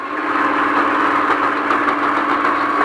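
Off-road vehicle engine on the Speed Vegas Baja course, pulling hard under throttle as a loud, steady, close drone with a rough mechanical edge throughout.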